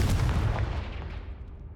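A Confringo fire spell blasts in the Hogwarts Legacy video game: a loud, booming explosive burst at the start that rumbles and slowly fades away, with no talking.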